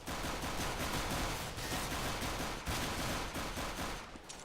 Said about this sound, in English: INVOKE coming up through mid and finishing it off with the P90